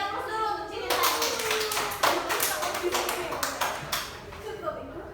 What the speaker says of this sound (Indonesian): Beri aplaus dulu untuk Cilin tadi